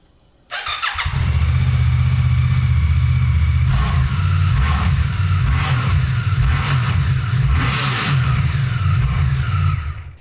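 A Suzuki GSX-8R motorcycle fires up and revs in an enclosed space, the loud, boomy engine holding a steady idle between repeated blips of the throttle, with no voices over it.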